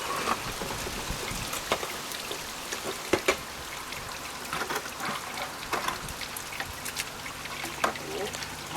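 Water runs through a gold prospecting sluice carrying quartz gravel, a steady splashing trickle with scattered drips and small pours, close by and continuous throughout.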